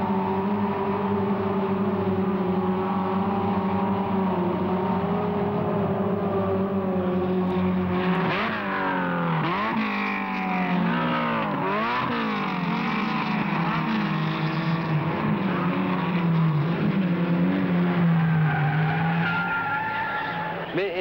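Renault R8 Gordini racing cars roar past on a track on the first lap, bumper to bumper, engines whining and shifting pitch as they pass, loud and continuous with tires squealing.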